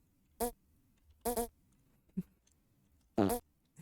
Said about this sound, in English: Gonna love the fart noises.